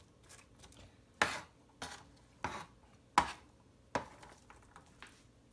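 A knife chops vegetables into small cubes on a board, five or six sharp separate knocks at an uneven, unhurried pace, close and clear against a quiet room.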